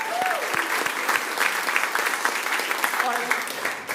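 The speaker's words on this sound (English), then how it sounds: "I think you really deserve, from me, a round of applause" Audience applause for quiz contestants at a grand final, a dense continuous clatter of many hands, with a voice talking over it at times.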